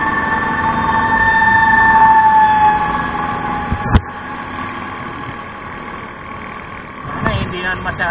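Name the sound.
fire truck siren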